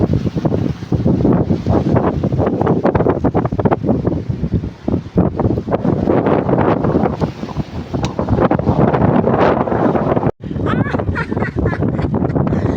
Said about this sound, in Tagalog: Super mahangin talaga mga friend.